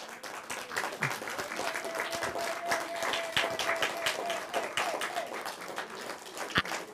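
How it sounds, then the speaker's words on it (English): An audience at a book event claps steadily, a dense, sustained patter of many hands at moderate distance with a faint tone running underneath. "Milca, I want you to stand and applaud her"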